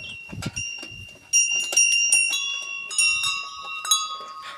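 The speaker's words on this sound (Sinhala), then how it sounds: "සීනු තියෙනවා" Small bells at a Sri Lankan temple shrine chime repeatedly, overlapping into a bright, shimmering ring with sustained tones, close and fairly loud, and no one talks over them.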